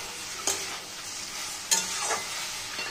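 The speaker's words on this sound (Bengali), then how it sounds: "এবার আমি এটাকে একদম গ্যাসটাকে লো ফ্লেমে ভালো করে কষিয়ে নেব" Egg masala frying and being stirred on low flame, a soft steady sizzle broken by a few sharp spatula scrapes against the pan.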